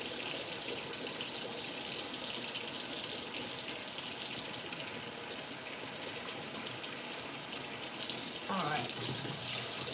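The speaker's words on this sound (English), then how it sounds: "We're just gonna rinse these potatoes" Tap water runs steadily into a sink while potatoes are rinsed for a home-cooked seafood dinner for two, a broad continuous gush lasting throughout, with a brief spoken remark near the end.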